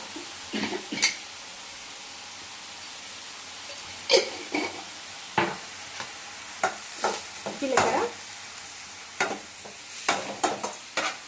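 Cumin, whole spices and onions sizzle in hot oil while a spoon scrapes and knocks against the pan, giving intermittent stirring clatters over a soft, steady frying hiss.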